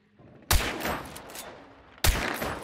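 Two sharp, loud gunshots in the video game Hunt: Showdown, each followed by a long echoing decay, spaced about a second and a half apart.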